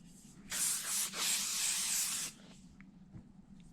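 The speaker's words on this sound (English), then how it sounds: "Nice little mist of product." A single spray of hair product mists onto hair during flat-iron styling: one sharp, close hiss lasting nearly two seconds with a brief dip partway through. Quiet room tone surrounds it.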